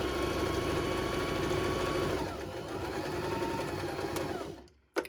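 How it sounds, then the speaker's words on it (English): Baby Lock Zest sewing machine stitching the shoulder seams of a t-shirt dress, a steady close mechanical whir running continuously before stopping abruptly near the end, with no talk. "So I'll start stitching and then do a back stitch, and then keep going around."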